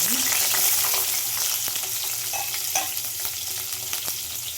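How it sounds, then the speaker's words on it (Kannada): Paneer sizzles in hot oil in a kadai, a dense continuous frying hiss with scattered pops and crackles and occasional stirring clinks, close and steady throughout. "ಇವಾಗ ಎಣ್ಣೆ ಹಾಕ್ತಾಯಿದ್ದೀನಿ. ಇವಾಗ ನಾನು ಪನ್ನೀರ್ನ ಹಾಕ್ತೀನಿ."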